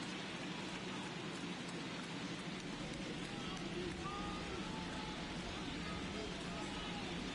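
Steady rain falls over Busch Stadium in a baseball video game, a constant even hiss that fills the whole stretch, with faint crowd murmur beneath it.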